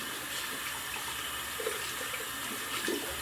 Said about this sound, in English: If I add more water, because it can still take more if need be, I could probably get a second or another pass on top of that.